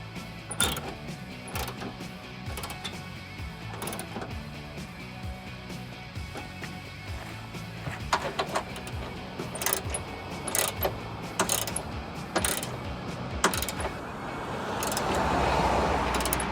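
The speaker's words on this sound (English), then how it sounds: "now I'm going to go back through them and tighten them pretty tight, but not overly tight." Headlight mounting screws on a 2005-2009 Mustang are tightened into a black plastic housing, giving quiet intermittent clicks and ratcheting mechanical sounds with faint background hum.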